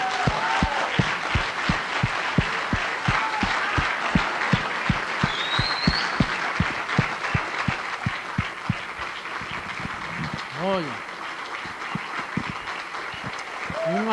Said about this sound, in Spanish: Oye, vamos a darle un aplauso al jefe.